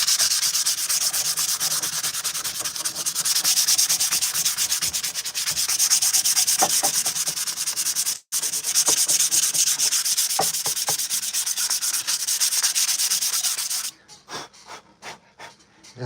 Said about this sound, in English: I'm sanding this off.